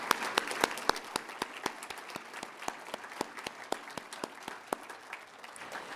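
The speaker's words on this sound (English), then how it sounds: "How about one more round of applause for our master entrepreneurs?" Moderate audience applause at an evening entrepreneurship event honoring master entrepreneurs, with distinct individual claps standing out over a softer crowd patter for several seconds.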